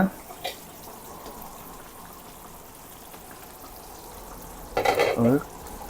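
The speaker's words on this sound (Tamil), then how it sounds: "அதே மாதிரி ஒரு 2 நிமிஷம் கொதிக்க விடுவோம்" Dal dumpling curry simmering in a pan over a medium flame: a steady soft bubbling hiss throughout, with a brief louder burst of bubbling and clatter near the end.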